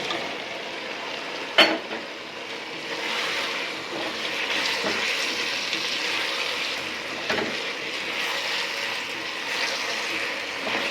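Chicken pieces being stirred and fried in cooked-down spice paste and oil, a steady moderate sizzle throughout with a couple of sharp utensil clanks against the pan.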